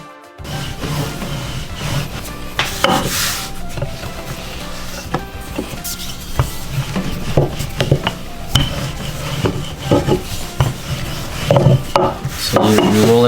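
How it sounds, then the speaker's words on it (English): Lao khao piak sen noodle dough is rolled out on a work surface, giving a steady rubbing and rumbling with repeated soft wooden knocks and scrapes of the rolling pin, close and continuous with no talking. "you're gonna start rolling out your dough"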